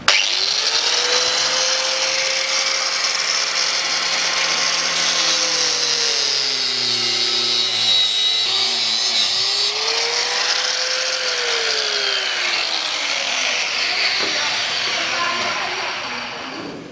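A power tool whines steadily for about seventeen seconds while cutting off an old front stabilizer link on a Mitsubishi Pajero iO with the 4G93 engine. The whirring rises and dips in pitch, loud and close, with no voices.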